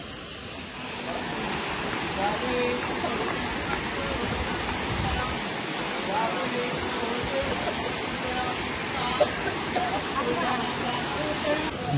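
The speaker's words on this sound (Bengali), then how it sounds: "দেখো ওই দিক থেকে ঝর্ণার জলটা নামছে।" Waterfall at the Panchalingeswar temple, a steady, dense rush of falling water that holds even and unbroken from start to finish, fairly close by.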